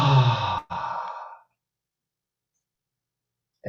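A group of people exhaling a deep breath together during a yoga session, one long soft sigh lasting under a second and a half, then silence, with another breath starting at the end.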